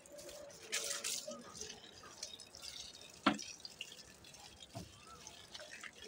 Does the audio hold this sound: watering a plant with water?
yes